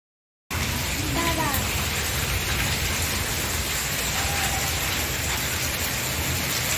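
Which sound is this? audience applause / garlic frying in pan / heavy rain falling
heavy rain falling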